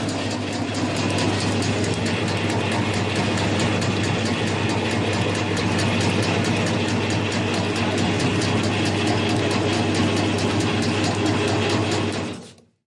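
A meatball forming machine runs in a factory, giving a loud, steady mechanical rattle with a constant low hum and rapid rhythmic clatter. It carries on without a break and then cuts off abruptly at the end, with no voices.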